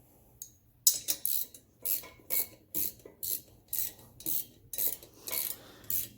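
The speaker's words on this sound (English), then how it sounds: "on this one that I'm tightening, I'm using a 1/2-inch socket on there" A 1/2-inch socket on a ratchet tightening a bolt on an STI engine cylinder head, giving a regular series of about a dozen close, crisp ratchet clicks in quick strokes.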